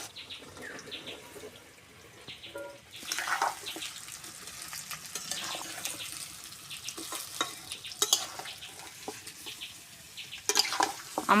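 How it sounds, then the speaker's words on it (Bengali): Hog plums stirred in hot oil for a sweet-sour pickle give repeated scraping strokes over a soft sizzle, with louder clatters now and then and no speech. "আমড়াগুলো এইভাবে তেলে নেড়ে নিতে হবে, নেড়ে নেড়ে সিদ্ধ হবে।"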